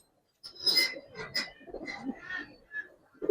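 A Giribaz pigeon coos close by in a series of soft, throaty calls with short pauses between them. The calls stand alone over a quiet background.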